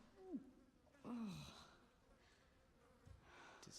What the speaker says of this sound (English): Insects buzzing. Yeah, making that noise they usually make.